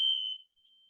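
A building alarm sounds as a single sharp high electronic beep that sustains briefly and then fades, heard alone without talk.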